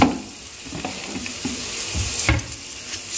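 Onions frying in a pan give a soft, steady sizzle with light stirring taps and a few scrapes, close and fairly quiet.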